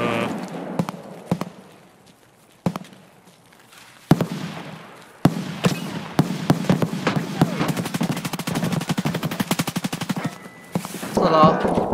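Rapid shotgun and automatic gunfire in the Escape from Tarkov video game, loud sharp cracks scattered at first then a dense fast burst of shots, with a brief voice near the end.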